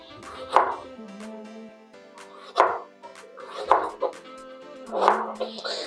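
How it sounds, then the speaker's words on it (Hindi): A knife chops tomatoes into small pieces on a cutting board, making about four distinct, irregularly spaced thuds. The chopping is close and moderately quiet, with a faint voice talking in the background. "इस तरह हम छोटे छोटे पीस में टमाटर को काट लें"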